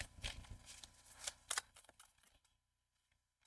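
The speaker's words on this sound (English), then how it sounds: "Two shuffles for White Jeep." A tarot deck is shuffled in quick riffling bursts for about two seconds, crisp and close, then the sound drops to near silence before a final soft tap.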